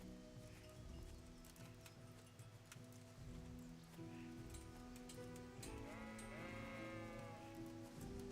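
Sheep bleat repeatedly in a medieval video game, several wavering calls over a steady background of ambient game noise, faint and without talk.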